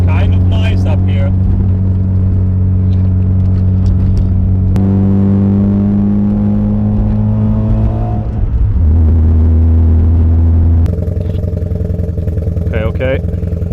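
A car, probably an RX-7, drives home along a road with a steady low engine rumble and shifting gear tones, while people talk inside over it.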